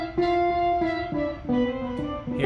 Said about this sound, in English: I could also have an eighth note slapback delay.